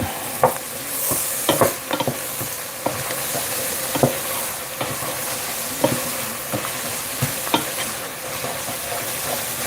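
Garlic sizzles steadily in a pan at home while a utensil stirs it, sharp scraping knocks recurring every second or so over a continuous frying hiss, close and fairly loud.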